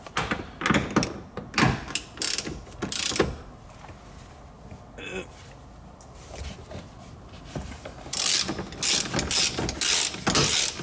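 A socket wrench works on the seat bolts inside a gutted BMW, giving bursts of ratcheting clicks and metallic clunks in close, irregular clusters separated by quieter pauses.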